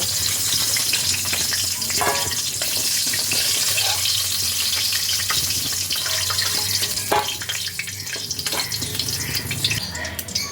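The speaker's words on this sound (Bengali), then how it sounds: "মাথাটা ভালোভাবে ভাজা হয়ে গেছে। এবার আমি মাথাটাকে তেল থেকে তুলে নেব।" A fish head frying in hot oil gives a loud, steady, close sizzle that runs unbroken throughout, with a few brief scrapes and clatters on top.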